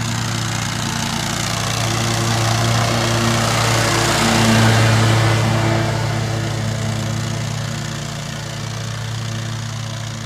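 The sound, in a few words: lawn mower mowing grass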